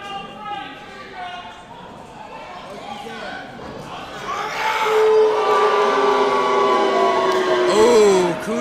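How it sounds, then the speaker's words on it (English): Crowd at a live wrestling event in Green Bay cheering and roaring, the noise swelling to a loud, sustained din in the second half, with announcers talking over it throughout. "This crowd is pumped up for Classic Alpha"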